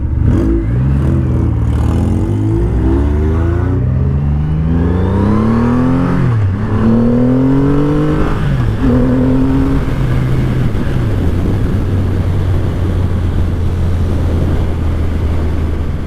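A Triumph Rocket III motorcycle engine accelerates hard through several gears, each rising pull breaking off at a shift before settling into a loud, steady drone. It sounds close throughout, with wind noise and no talking.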